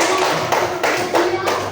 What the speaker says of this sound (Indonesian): Tapi bisa tepuk tangan lagi.